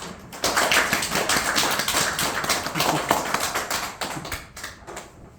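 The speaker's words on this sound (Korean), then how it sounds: "박수를 부탁드립니다." An audience at a feng shui lecture breaks into a burst of applause, many hands clapping in a dense, steady patter that swells quickly, holds for several seconds and then thins out.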